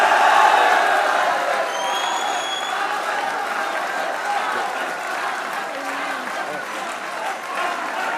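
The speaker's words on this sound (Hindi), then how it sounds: "शादाब के लिए भी तालियां होनी चाहिए" A studio audience at a comedy show applauds and cheers after India's cricket win over Pakistan, loud broadband clapping with scattered whoops that peaks early and then holds steady throughout.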